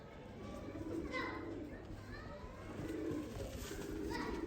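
A Sialkoti black-mouthed breeder male pigeon coos in soft repeated bursts, joined by a few other bird calls and distant children's voices in the background.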